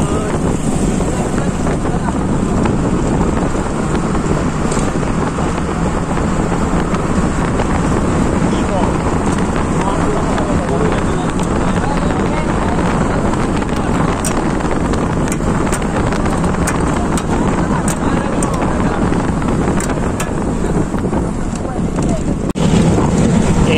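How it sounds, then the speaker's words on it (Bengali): Boat ride at Sada Pathor in Sylhet: a steady, loud broadband rumble of engine, water and wind buffeting the microphone runs unbroken for the whole stretch, with no clear pauses. "মাত্র আমরা সাদা পাথরে নৌকাতে উঠলাম"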